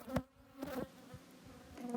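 Honey bees crawl over a hive frame with a marked queen, giving a quiet, wavering buzz with a few louder passes of single bees flying close by.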